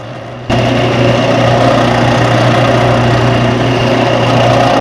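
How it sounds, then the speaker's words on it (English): A belt sander runs steadily against a wooden musky crankbait lure, starting abruptly and holding a loud, continuous motor whine with a buzzing abrasive hiss for several seconds before cutting off. "Off to the belt sander."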